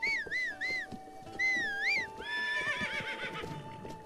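A horse in Zelda: Breath of the Wild on the Wii U answers a whistle with rising and falling whinnies. Game music plays underneath, and clip-clopping hooves and a few soft chimes are mixed in.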